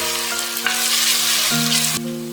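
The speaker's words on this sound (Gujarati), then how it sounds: "3-4 મિનિટ સુધી એને મીડિયમ ગેસ ઉપર શેકાવા દઈએ કે જેથી જિંજર અને ગાર્લિક નો જે રો ટેસ્ટ હોય એ બધો જતો રહે" Onion, ginger and garlic fry in a pan over a medium gas flame for chicken bhuna masala, making a loud, continuous close-up sizzle with a steady low hum beneath it.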